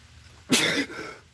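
One sharp, close sneeze bursts out and fades within a second against a quiet background.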